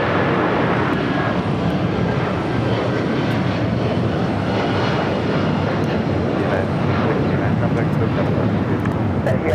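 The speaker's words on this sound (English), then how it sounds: "United 757 now taking off on 25 right." United Airlines Boeing 757-300 taking off on runway 25 right at LAX, a sustained loud jet roar with rumbling engine power throughout, talk faintly mixed in.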